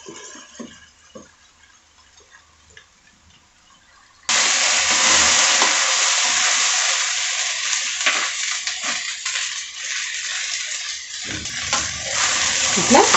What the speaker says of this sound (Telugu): ఇట్లా చక్కగా వేపుకోవాలి. మధ్యలో వేపుతూ ఉంటే అప్పుడు అడుగు అంటకుండా ఉంటుంది